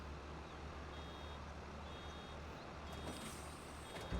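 A truck in Farming Simulator 25 reverses, its faint, regular warning beeps repeating about once a second over a steady low engine drone.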